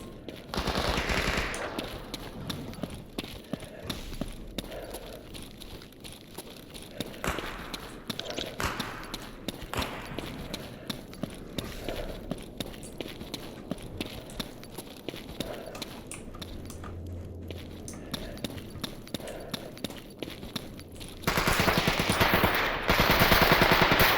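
Rapid bursts of automatic and single-shot gunfire rattle almost continuously during close-quarters combat in the shooter game Escape From Pripyat, with a louder, denser barrage near the end.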